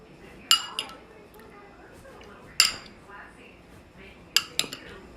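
Shrimp sauce mixed with garlic in a bowl gives sharp utensil clinks against the dish, three main strikes with a quick double tap at the end, over quiet background.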